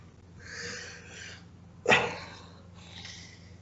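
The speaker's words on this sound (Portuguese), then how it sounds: "Pode espirrar, não tem problema." A single sharp sneeze bursts out close to the microphone in a quiet indoor room, with soft breathing before and after.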